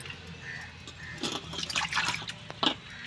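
Raw fish is rinsed and washed in water in a home kitchen while being prepared for a masala fish fry. Faint, irregular splashing and trickling come in short bursts, with no talk.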